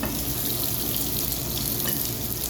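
Onions frying in a pan toward golden brown for a seekh kabab gravy make a dense, continuous close-up sizzle that holds evenly throughout without pauses.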